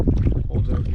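A loaded canoe, heavier and bigger than a North Star model and carrying gear, moves along on the Allagash Wilderness Waterway. Low, steady water sloshing runs under light wind noise throughout.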